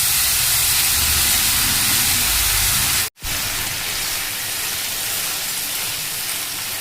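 Half a cup of water poured into a hot pan of onion-stalk curry gives a loud, continuous steamy hiss, broken by a brief dropout partway through, then a slightly softer hiss.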